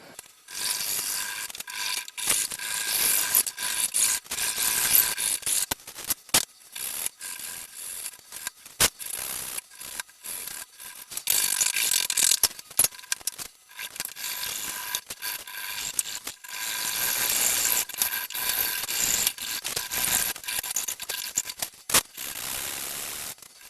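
Rough rasping strokes of a file cutting grooves into the wooden fork tips of a slingshot, repeated in irregular bursts with short pauses, close up and scratchy, no talking.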